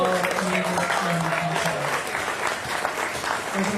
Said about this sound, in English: Everyone gets a round of applause because you guys are all amazing.